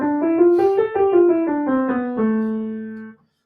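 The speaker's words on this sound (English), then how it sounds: "we have a minor scale that sounds like this." A minor scale played on a single melodic instrument, a run of about ten even notes rising then falling, close and alone, the final note held and fading.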